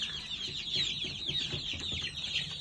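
A flock of barred rock chickens, young birds, clucking and chattering busily over freshly poured feed: a dense, continuous murmur of overlapping clucks at close range.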